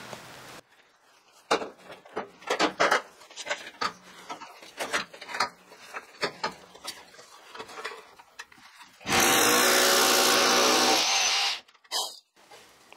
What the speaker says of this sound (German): Ja, dann bohre ich da erstmal.